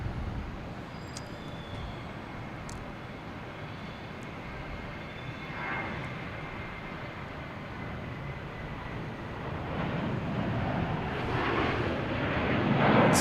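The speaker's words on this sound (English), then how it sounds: "There we have JetBlue taking off to Fort Lauderdale," A JetBlue Airbus A320 takes off at Boston Logan, a steady, fairly faint distant jet roar that builds gradually toward the end, with no voices.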